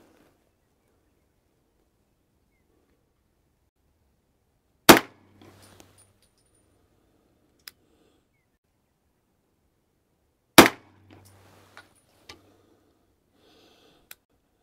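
Two sharp, loud gunshots fired with Hornady Critical Defense ammunition during ballistic testing ring out several seconds apart in an otherwise quiet range, each followed by brief faint clatter and small clicks.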